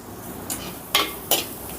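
Chopped medium onion pieces frying in a pan with ginger and garlic, giving a steady soft sizzle broken by three brief scraping stirs of a spatula against the pan.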